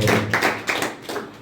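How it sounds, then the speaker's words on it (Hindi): Congregation clapping along during a Hindi-language church worship service, a few rhythmic bursts of hand claps close and fairly loud, with no talk over them. "ताली बजाएं प्रभु के लिए।"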